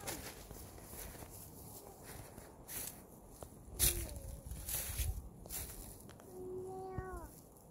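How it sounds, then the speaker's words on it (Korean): A cat meows a few times, short rising-falling cries near the end, amid rustling, a couple of sharp clicks and soft footsteps. "야옹이 먹을 거 줘요, 로운이."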